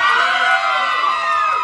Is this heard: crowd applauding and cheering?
yes